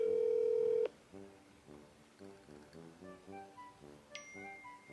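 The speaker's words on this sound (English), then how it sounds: "He sent you to voicemail" A phone call goes to voicemail: a steady tone cuts off, then quiet beeping tones and chimes follow at low volume, ending with a short electronic beep.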